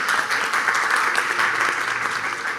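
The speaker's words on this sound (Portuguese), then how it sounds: "mas palmas" Audience at an international forum claps in a brief, dense burst of applause, fairly close and loud, holding steady before easing off slightly.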